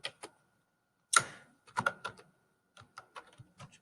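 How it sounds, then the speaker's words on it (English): Keystrokes on a computer keyboard while entering customer data into a Microsoft Excel 2019 spreadsheet: sparse clusters of sharp, close clicks with a louder tab-key clack, separated by brief pauses. "So I'm going to type in Eric, tab, snow, tab, sun, wind"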